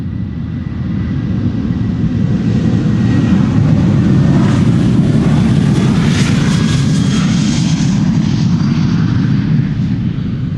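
A KLM Boeing 737-800 jet airliner on its takeoff roll at Schiphol Airport, bound for Edinburgh, gives a loud, steady engine roar with a broad rumble that swells slightly midway and holds for about ten seconds, with no talk.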